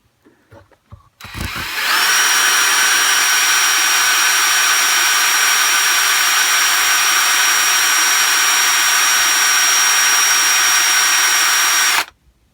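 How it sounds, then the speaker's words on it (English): A power drill spins a motorcycle speedometer cable from a Yamaha MX100 after a few small clicks, running at a loud, steady whine for about ten seconds before stopping. "So I'm just going to show you it on the drill."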